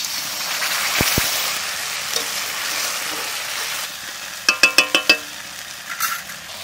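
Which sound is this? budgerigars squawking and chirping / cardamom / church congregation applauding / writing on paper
cardamom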